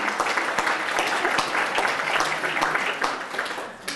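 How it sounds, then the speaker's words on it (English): A healthcare audience at an NHS Q&A session claps warmly for a care team, giving steady, moderately loud applause that continues throughout. "I want everyone to give them a really big round of applause because they've been fantastic."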